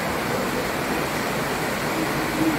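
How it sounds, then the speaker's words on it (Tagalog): Steady, dense rushing noise of heavy rain, constant and unbroken, with no voices. "Lakas pa rin yung ulan."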